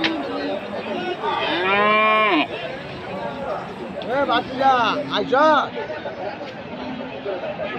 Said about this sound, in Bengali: সকল প্রকারের গরু এই হাটে ওঠে